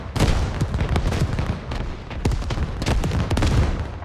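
Dense, continuous barrage of rocket and mortar fire in the video game Squad, loud overlapping booms and cracks rolling without pause, with no voices over it.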